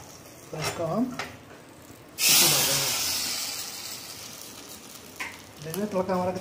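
Loud sizzle of tadka spices and asafoetida hitting hot oil, a sudden burst that slowly fades while it keeps crackling, with a voice talking briefly before and after.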